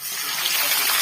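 Water gushes steadily into a kadhai while cooking a Chhattisgarhi potato, eggplant and onion-greens dish, a continuous broadband pour lasting about a second at close range with no talk over it.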